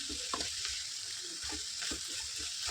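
Chickpea leaves fry and are stirred in a pan, giving a continuous close sizzle with soft scraping stirs at an uneven rhythm and no talking.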